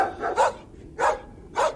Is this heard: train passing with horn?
no